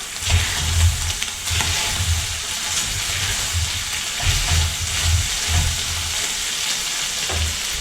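Continuous loud sizzle of meat frying on high heat in a pan, with periodic low scraping thumps of stirring, close up and without speech.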